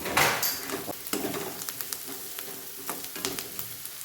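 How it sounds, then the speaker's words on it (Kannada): Turmeric powder frying in oil in a pan for a North Karnataka puffed-rice snack, a soft continuous sizzle broken by spoon scrapes and light clinks against the pan. "ಸ್ವಲ್ಪ ಒಂದು ಚಮಚದಷ್ಟು ಅರಿಶಿನ ಪುಡಿ ಹಾಕ್ಕೊಳ್ತಾ ಇದ್ದೀನಿ ನಾನು ಹಾಕಿ ಒಂದು ಎರಡು ನಿಮಿಷದವರೆಗೂ ಫ್ರೈ ಮಾಡಿ"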